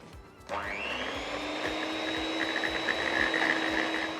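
An electric mixer starts with a sharp whir and then runs loud and steady, beating vegan cream cheese with powdered sugar, its motor whine holding constant with slight wobbles and no talk over it.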